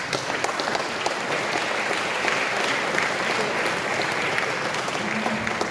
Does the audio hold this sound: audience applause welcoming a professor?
yes